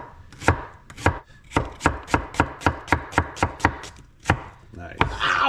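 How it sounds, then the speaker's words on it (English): A freshly sharpened knife julienne-slices vegetables on a cutting board for cheesesteak hoagies, giving a steady run of about fourteen sharp, close chops in even rhythm with no talking. "All right, we're gonna Julienne slice."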